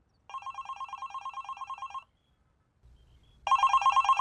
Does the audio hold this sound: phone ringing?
yes